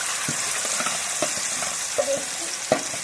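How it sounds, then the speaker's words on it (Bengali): Spices frying in white oil in a pan, a steady soft sizzle broken by a few sharp scraping clicks from stirring, close and alone with no talk. "এখন আমি মশলাটাকে ভেজে নেব"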